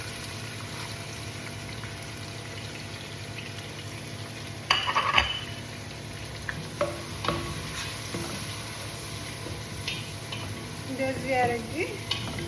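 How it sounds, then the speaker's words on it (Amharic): Onion fries in oil with chicken, giving a constant close sizzle with intermittent stirring scrapes and clatter; someone speaks briefly over the cooking. "እንደዚህ አድርጌ አሁን ሽንኩርት ጨምርበታለሁ ማለት ነው"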